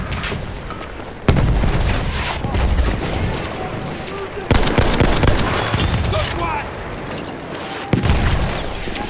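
Battlefield 1 gunfire: rapid enemy machine gun bursts and booming shots on the Suez operation, loud and continuous across the whole stretch, with sharp louder blasts and voices mixed in.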